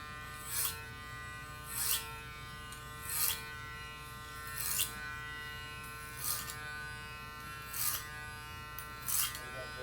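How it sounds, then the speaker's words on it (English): Electric hair clippers cut hair clipper-over-comb on a man's crown during a low fade, a steady close buzz broken by seven regular bright rasping passes spaced about every second and a half. "I don't think there's any better machine for clipper over comb."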